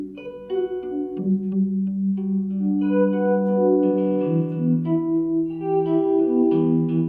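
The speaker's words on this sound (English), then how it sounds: "Sounds like sort of a weird room reverb like this" An electric guitar played through a Chase Bliss Lost + Found pedal set fully wet rings out in a sequence of chiming, resonant notes, each blooming into a strange room-like reverb with a metallic, bell-like sustain.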